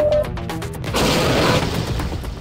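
A rocket explosion in the video game Portal, a loud booming blast with a crashing roar that swells and lingers about a second before fading, preceded by a brief tonal sound.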